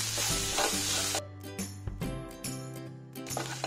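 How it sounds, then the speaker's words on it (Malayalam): Chicken roll filling with onions frying in a pan: a loud close sizzle at first, then a few clanking stirs against the pan with faint hiss between, no voices. "ഇനി ഇത് വീണ്ടും നന്നായി മിക്സ് ചെയ്ത് കൊടുക്കാം"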